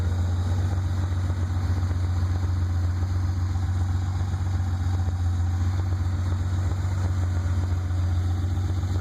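A 1986 BMW 325e six-cylinder with a newer heavy-duty radiator idles steadily and evenly at close range, a constant low hum with no voices.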